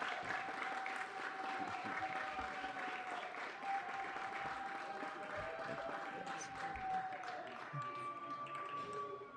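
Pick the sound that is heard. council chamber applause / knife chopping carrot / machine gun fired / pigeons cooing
council chamber applause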